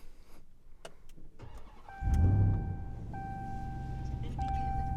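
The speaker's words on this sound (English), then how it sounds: "Push button start right here." A 2021 Ram 1500 TRX pickup started by push button: a few clicks and chimes, then the engine cranks and fires with a loud roar at about two seconds and settles into a steady idle as dashboard chimes sound.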